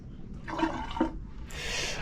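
Water trickles and gurgles briefly into a boat toilet tank while a macerator pump is being fitted, a short, fairly quiet burst of splashing that gives way to a brighter hiss near the end.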